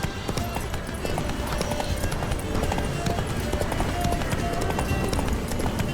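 Horse hooves gallop at a steady quick rhythm in The Witcher 3, a continuous clatter of hoofbeats running under faint voices and ambient game sound.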